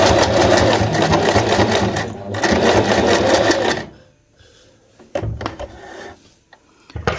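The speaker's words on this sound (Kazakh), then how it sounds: "Енді осы жерін қайырып тігеміз сәл." A sewing machine stitches a fabric turban in a loud, steady whirring run that stops briefly, resumes, then falls away to quieter handling and a few short bursts of stitching.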